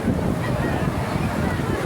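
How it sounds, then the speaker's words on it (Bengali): Big ocean waves breaking at Puri beach make a close, loud, steady roar of surf mixed with wind buffeting the microphone, unbroken across the short stretch. "আর তার সঙ্গে বড় বড় ঢেউ, দারুণ জমে উঠেছে"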